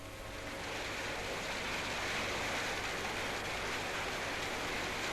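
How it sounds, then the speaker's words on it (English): Malt mash mixed with hot water at 146°F pours steadily into a brewery mash tun, a dense, continuous broadband rushing that swells in and holds loud throughout. "It pours in, looking rather like porridge, for water heated to 146 degrees Fahrenheit has been added."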